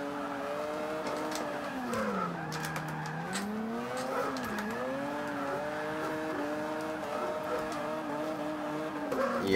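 Continuous tire squeal from a Mazda RX-7 drifting in Forza 5, a long wavering tonal screech that dips and rises in pitch as the slide changes, steady and fairly loud with no talking.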